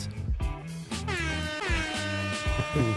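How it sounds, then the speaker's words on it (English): An air horn blares in several loud, brassy honks, one after another, close by. "Little air horn with the foot."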